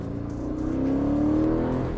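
A 2023 Aston Martin Vantage engine in track mode revs hard and loud up close, its pitch climbing steadily as it accelerates, with no talking over it.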